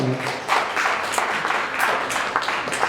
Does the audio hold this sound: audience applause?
yes